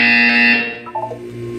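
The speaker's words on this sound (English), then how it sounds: "You will hear a buzzer." A loud, steady electronic buzzer from the video game Portal 2 drones for about half a second, then fades into a lower hum.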